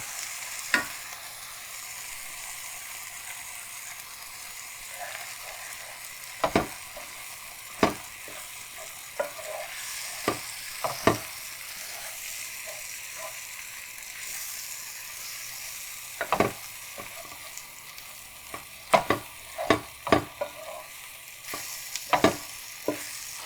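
Flour stirred into a hot frying pan for Persian-style beef stroganoff, a soft steady sizzle with scattered sharp scraping clicks of the spoon against the pan, growing busier toward the end, no talking.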